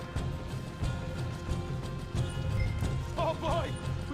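Horse hooves clip-clop at a steady run in the video game Red Dead Redemption 2, continuous and fairly close, mixed with game sounds and voices talking over them.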